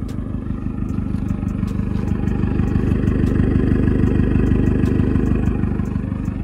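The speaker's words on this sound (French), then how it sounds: "on a donc les valves de l'échappement dont je parlais. Là, c'est ouvert." A Peugeot 308 GTi with its exhaust valves open runs loud and close, a dense throaty drone that swells slightly midway and holds steady.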